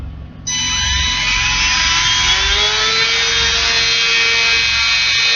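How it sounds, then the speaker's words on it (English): The small electric motor of an E-flite UMX AS3Xtra RC plane starts abruptly and holds a loud, steady high-pitched whine. Its tone shifts slightly as the motor runs on, close up and alone. "Let's have a look and listen at that motor, shall we?"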